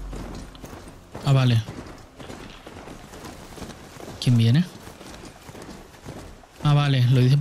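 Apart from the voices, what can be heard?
horse hooves while riding in Horizon Zero Dawn video game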